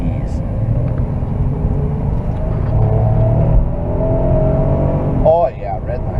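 A car engine revs hard toward the red line during a brake test after a brake pad replacement, a steady loud rumble building with rising tone over about six seconds while people talk throughout.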